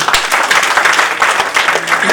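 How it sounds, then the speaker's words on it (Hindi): Loud, close clapping from an audience at a comedy poetry show, a thick continuous burst of many hands with a few sharper claps standing out and voices faintly under it. "जरा तालियां बजाओ, मूड दोगे।"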